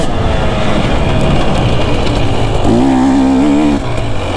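Two-stroke engine of a 2024 KTM 250 SX dirt bike on a ride, loud and close, lugging at low revs and then rising to a steady higher-pitched drone before easing off.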